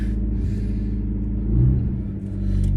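A car engine left unused for a year labors to start, giving a heavy, uneven low rumble that surges midway and dips before picking up again, close and loud with no talk.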